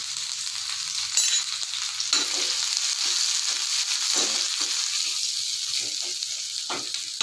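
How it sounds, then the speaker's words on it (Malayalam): Spices tempered in hot oil poured over curry give a loud, close, hissing sizzle that holds steady for several seconds, with faint stirring taps now and then and no voices. "ഇനി അതിലിട്ട് നമുക്ക് താളിച്ചൊഴിക്കാം."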